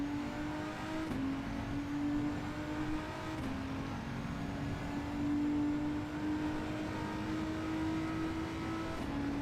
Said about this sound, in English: Apparently, it's a Volkswagen GTI.